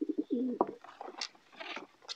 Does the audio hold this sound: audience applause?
no